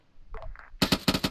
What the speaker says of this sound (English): There's someone shooting back at us.